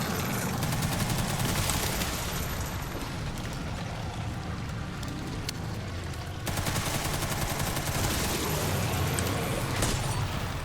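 Dense, continuous gunfire from a Resident Evil 9: Requiem game session, loud rapid bursts and booms running throughout with a brief dip partway, no talk over it.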